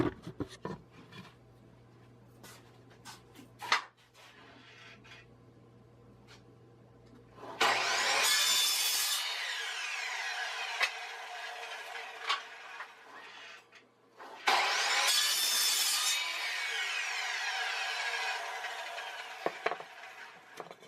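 Wood pieces for a DIY aquarium light fixture are hand-sawn in two bursts of rapid, rasping back-and-forth strokes, each lasting several seconds, separated by quieter handling and tapping noises.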